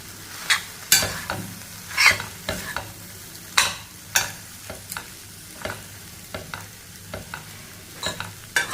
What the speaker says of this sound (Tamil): எல்லாத்தையும் நல்லா மிக்ஸ் பண்ணிக்குருவோம்.